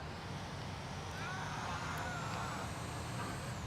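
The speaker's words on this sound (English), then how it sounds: "It doesn't get more overpowered than the fire truck." A fire truck drives in a Grand Theft Auto video game, its engine a steady, loud rumble with a faint rising whine, while voices talk over it.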